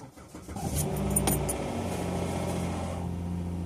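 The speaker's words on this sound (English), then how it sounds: "And it still starts the car." A car engine cranks and catches, then settles into a steady idle, close and fairly loud with no one speaking.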